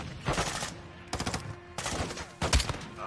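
Gunfire in Call of Duty MW2, a headshot kill: four loud, sharp bursts of rapid shots spaced about a second apart, with a deep low thump on the last one.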